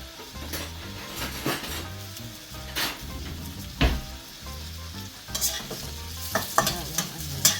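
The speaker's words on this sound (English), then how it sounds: "Just going to get a little spoon so we can stir there." Onions and green beans sizzling in a little oil in a wok, stirred with a spoon, giving a steady fry hiss broken by clinks and scrapes against the pan, close and alone.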